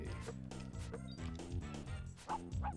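A kicked dog in the SNES game Looney Tunes B-Ball gives a run of short, quick, chiptune-style barks and yips, faint and rhythmic alongside clicky mechanical game sounds.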